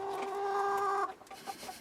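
A pet hen named Pippa gives a drawn-out, tonal cluck near the coop, followed by a few softer short clucks trailing off.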